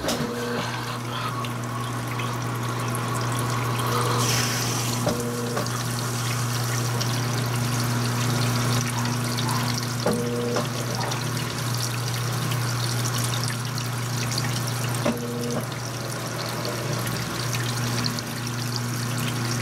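A Brastemp 16kg top-load washing machine drains water during its comforter cycle, a steady pump hum under trickling, gurgling water, with occasional faint clicks and knocks over about twenty seconds.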